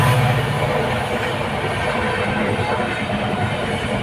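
A train rolls past a closed railway level-crossing gate on the way to Bangalore, a steady loud rumble of wagons and wheels holding for the whole stretch with no voices over it.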